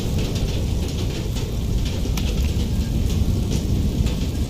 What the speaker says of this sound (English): Got lightning coming in. Thunder and lightning.